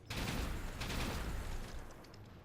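Weapons fire in the BattleTech video game, a dense sustained burst of gunfire-like blasts and booms filling the clip, loud and continuous with no talk.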